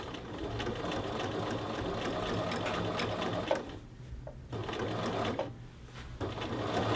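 A sewing machine stitches the collar band of a men's shirt, a fast steady mechanical whir that stops briefly twice and then resumes, close and fairly quiet.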